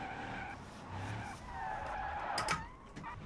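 Tires of a custom drift car squeal and skid in the BeamNG.Drive driving game, a faint, wavering screech over a low engine rumble with no talking.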